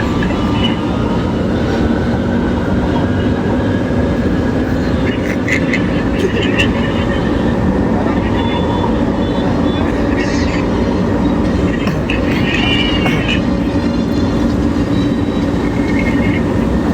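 An MRT train riding along the rail line, heard from inside as a loud, constant rumbling roar with occasional squeals and rattles, while people talk over it.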